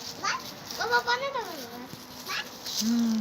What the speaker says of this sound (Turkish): Çok küçük köpekler bunlar. Yavru köpek hepsi.